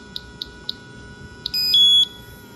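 An electronic cooking timer being set gives a few short, evenly spaced high beeps close by, followed by a longer sustained tone, with no voices.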